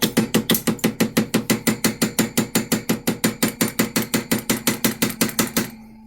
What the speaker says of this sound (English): I'm going to take my hammer, put some pressure on it